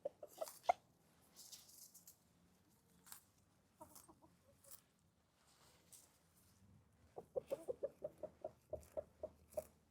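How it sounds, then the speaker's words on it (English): Chickens cluck and peck while eating clover, a quick run of close, rhythmic clucks at the start and a steady series of repeated clucks at the end, with quieter scratching and rustling in between. "Nice little chickies."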